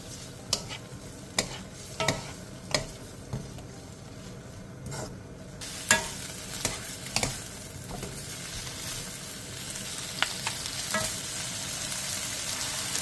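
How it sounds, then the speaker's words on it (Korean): Marinated bracken fern stir-fried in oil over high heat: a continuous sizzle punctuated by regular sharp scrapes and taps of a utensil against the pan, roughly once a second, close and without speech. "팬에 기름을 두른 뒤 재워둔 고사리를 넣고 센 불에서 2분에서 3분간"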